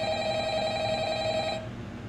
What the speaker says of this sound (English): Quiet phone, guys.